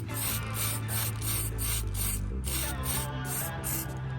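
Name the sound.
spray paint aerosol spraying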